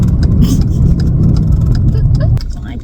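A truck engine idles and rumbles while backing up, steady and close and loud for most of the stretch, then easing off near the end.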